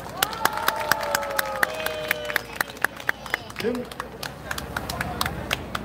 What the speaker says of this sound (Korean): 우리 예비군 해병대 정벌 모든 군인들한테 힘찬 박수 부탁합니다.